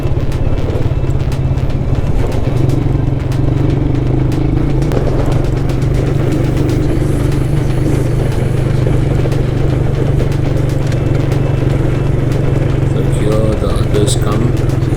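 A motorcycle engine drones steadily and loudly throughout, with clatter and rattles from riding over rough off-road ground in Kaythanamakki, India, under a rider's talk.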